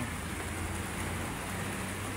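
Rain falls at Manila Bay in a steady, even wash of broadband noise with a low rumble beneath, continuous throughout and without voices.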